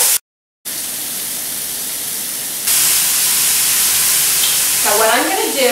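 Spiced marinated fish sizzles in a hot pan, a loud close frying hiss that jumps in intensity partway through as it settles in the oil, with bubbling crackle toward the end.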